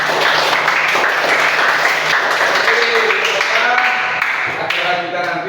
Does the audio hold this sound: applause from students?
yes